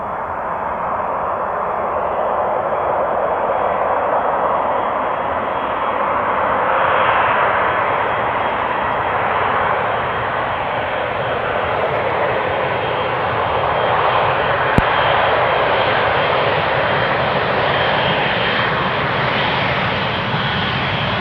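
A jet airplane arriving at Amsterdam Schiphol Airport gives a loud, steady engine roar that swells slightly and holds for over twenty seconds with no voices.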